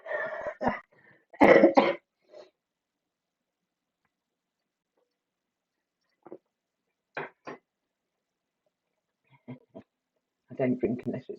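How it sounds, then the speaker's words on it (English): A boy coughs and clears his throat in short, harsh bursts from the background of a home livestream, separated by long quiet gaps, with a few brief voices nearby. "It's my son coughing in the background"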